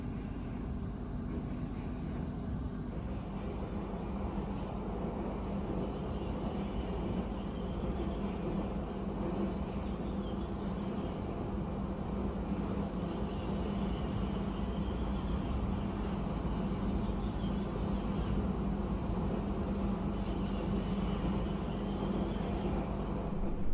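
Inside a first-generation stainless steel premium carriage on the Logawa train, a steady rumbling roar of rolling wheels and rattling cabin noise continues throughout, with no one speaking.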